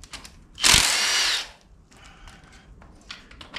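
A power tool or ratchet buzzes in one loud burst of about a second while a motor mount is removed from a 1956 Chevy 283 engine, followed by quieter clicks and faint mechanical sounds nearby.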